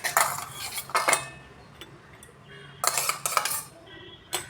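Almond pieces dropped into a bowl and stirred with a spoon, giving several close bursts of metallic clinking and scraping separated by brief quieter gaps.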